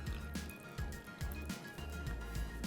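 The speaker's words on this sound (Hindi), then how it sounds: "अब यहाँ पर इसके अंदर मैं थोड़ा सा पानी ऐड करूँगा" Chilled water is poured little by little into a coffee mixture for a sweet drink made with stevia sweetener, making soft intermittent splashes and squishy dribbling sounds close by.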